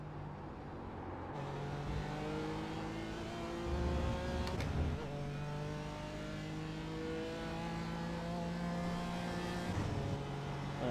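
BMW M4 GT4 race car lapping Watkins Glen, its engine droning steadily from inside the cockpit with shifting harmonic tones as revs rise and fall, one brief louder burst midway and no talking.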